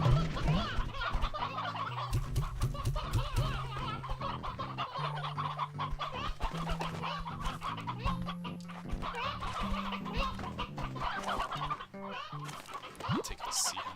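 A sea hen, a chicken-like creature in the video game Slime Rancher 2, clucks repeatedly amid busy game sounds, its clucks close and fairly loud in a dense, continuous mix.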